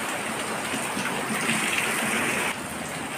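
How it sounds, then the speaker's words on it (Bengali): Heavy monsoon rain pours steadily outside a home on a Rath Yatra afternoon, a dense continuous hiss with no pauses that eases slightly in level toward the end. "বৃষ্টিটা কমলেই ভালো হইব"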